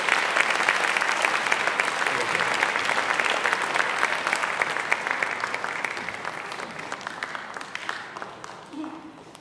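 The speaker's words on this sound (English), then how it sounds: "One more big round of applause for all of our award-winning people" A school concert audience gives steady, dense applause for Grade 9 band award winners, the clapping holding evenly before tapering slightly near the end.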